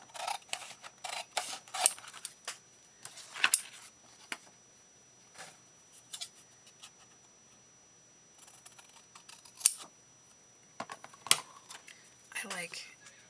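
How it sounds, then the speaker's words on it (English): A strip of paper is snipped with scissors during a vintage ephemera papercraft session, quiet crisp cuts arriving in short irregular bursts with pauses between. "let's just cut this strip"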